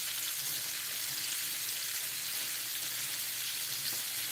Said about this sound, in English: You want your pork chops to cook a good 30 minutes because it is pork.